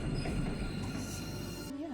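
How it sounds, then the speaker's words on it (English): A train passes in Boston in winter, a steady rumble with a brief high wheel squeal toward the end, heard at moderate volume alone. "And then also here's the train"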